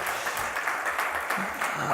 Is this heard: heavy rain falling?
no